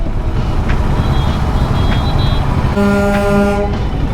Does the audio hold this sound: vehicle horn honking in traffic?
yes